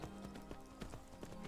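Horse hooves clip-clop at a steady walking rhythm in Skyrim, close and continuous, a loyal brown horse picking its way down a hill, with a low background hum underneath.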